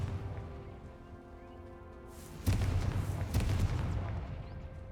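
A Confringo blasting spell cast in Hogwarts Legacy: after a quiet ambient hum, a sudden loud burst erupts midway, followed by a second crackling blast and a rumbling tail that slowly fades.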